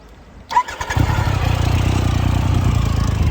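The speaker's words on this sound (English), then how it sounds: "I don't like that you have to use the clutch to start it" A Triumph Tiger Explorer motorcycle fitted with an aftermarket exhaust cranks and fires up, then settles into a steady, deep, throbbing idle close by, with no talking.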